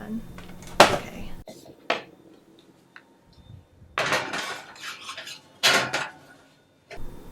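A baking bag on a metal baking pan goes into an oven, with a few sharp metallic clanks and rattles separated by quiet gaps, and a person speaking briefly.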